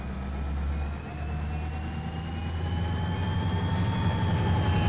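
A freight train rumbles steadily in the Run 8 train simulator game, a continuous low engine drone with rising whining tones layered above, heard alone without talk.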